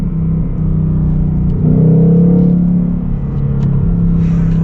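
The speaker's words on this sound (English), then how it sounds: "the sounds that you get out of this 5-liter naturally aspirated V8." A Ford Mustang Bullitt's 5-liter naturally aspirated V8 drones loudly and steadily, climbing in revs with a deep rumble and whir, heard from inside or near the car.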